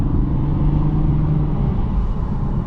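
Cabin view of a 2024 Lexus IS 350 F-Sport, the 3.5 liter engine pulling smoothly under acceleration, a dense continuous low rumble with a faint rising tone, close and steady throughout.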